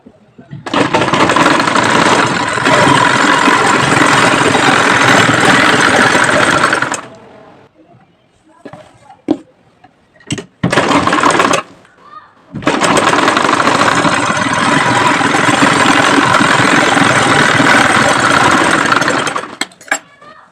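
Sewing machine stitching a sari blouse, running in long loud continuous bursts of rapid mechanical whirring, stopping briefly with a few short starts and clatters before a second long run, close up.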